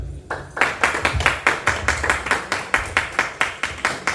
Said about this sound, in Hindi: आपकी तालियों से पता चलना चाहिए कि आप कितने खुश हैं।